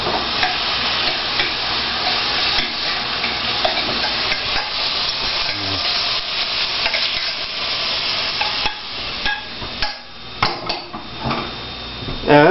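Ground meat browning in a pot with a splash of tomato sauce added, a steady loud sizzle with scraping stirs throughout, thinning out toward the end into a few sharp clinks of utensil on pot.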